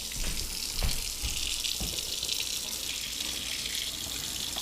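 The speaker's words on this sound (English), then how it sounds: "God, the water pressure is so slow here." Water streams steadily from a kitchen tap at low pressure, a continuous close hiss with a few faint clinks underneath and no talking.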